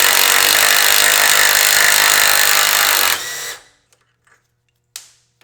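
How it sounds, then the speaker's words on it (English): A power tool rattles loudly and continuously for about three seconds as an impact wrench works the 22mm ball joint nut on an E53 X5 front control arm, then stops, leaving a few faint clicks and one sharp knock. "we're gonna start with this 22mm nut on top of the ball joint, which I'm choosing to use an impact"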